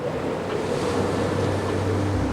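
Rough open-sea waves break and churn around a small boat in a storm, a continuous heavy roar of white water and wind buffeting, loud and close, with no talking.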